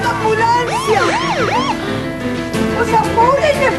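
An ambulance siren wails nearby in loud, sweeping rising-and-falling tones, fading briefly before returning, with voices talking over it.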